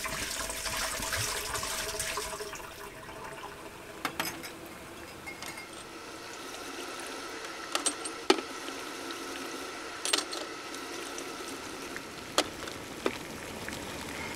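Hot tap water poured out of glass beer bottles during home-brew bottling, a splashing gush at first that gives way to quieter trickles, dripping and occasional glass clinks and knocks.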